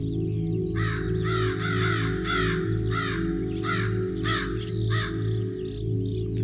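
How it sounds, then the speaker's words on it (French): Crows caw in a steady series of about eight harsh calls, fairly close, over a constant low mechanical hum. "Vous entendez des oiseaux."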